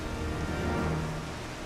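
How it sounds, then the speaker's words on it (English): Steady rain pours in Final Fantasy XIV, a dense, even hiss of falling water that stays loud and constant throughout. "It's getting rainy."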